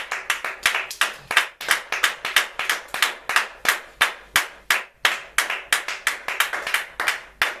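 Congregation at a church worship service clapping hands in a steady, brisk rhythm, many hands striking together loud and close, continuous throughout with no talking over it.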